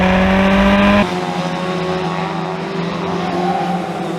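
Historic Formula Ford single-seater racing cars at Brands Hatch, a loud engine roar for the first second then dropping to a steadier, more distant engine drone as the cars pull away around the circuit.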